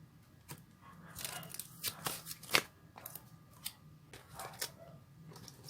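Tarot cards are shuffled by hand, giving a quiet run of riffling snaps and papery crackles in irregular bursts, close up with no talking.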